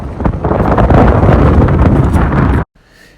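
Cold wind gusts roar above Norwegian fjords, a loud, continuous buffeting rush striking the microphone for over two seconds before cutting off abruptly to near quiet.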